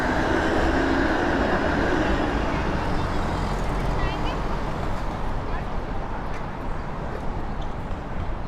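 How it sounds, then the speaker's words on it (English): A 509 Harbourfront streetcar passes along a Toronto waterfront street, a dense, steady rolling rumble with faint wheel squeal, close and loud throughout. "There's a 509 Harborfront streetcar."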